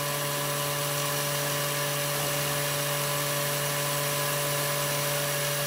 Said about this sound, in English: Open the pump, open up the trap to vacuum.